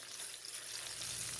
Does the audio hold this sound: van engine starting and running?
no